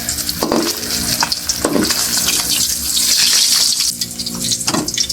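Water runs from a kitchen tap as okra is washed, a steady close rushing hiss broken by a few soft clatters and splashes throughout.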